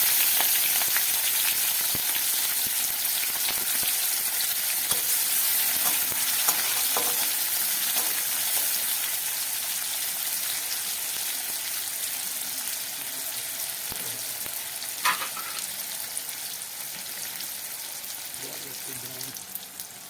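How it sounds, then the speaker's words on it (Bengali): Onions and green chillies frying in hot oil in a wok, a steady broadband sizzle running throughout with occasional stirring scrapes, moderately close and fairly even in level. "এখানে তেল গরম হয়ে গেছে, আমরা এখানে এবারে পেঁয়াজ লঙ্কাটা দিয়ে দেবো ওর মধ্যে।"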